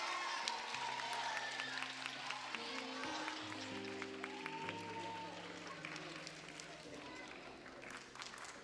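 Audience applause fills the hall at a school moving-up ceremony, a steady, distant wash of clapping that holds throughout while instrumental music plays underneath and voices murmur.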